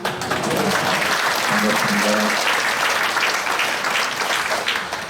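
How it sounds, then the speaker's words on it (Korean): Church congregation applauding a pastor as he comes forward at a Korean Liberation Day 80th anniversary worship service: dense, steady clapping throughout, with a voice briefly speaking over it. "할렐루야 하고 박수는 치는데"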